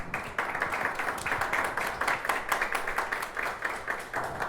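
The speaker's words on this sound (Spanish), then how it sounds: "Para él pedimos un fuerte aplauso" An audience applauds to welcome a speaker at a talk, many hands clapping in a steady, even rhythm that holds throughout at moderate loudness, with no voices over it.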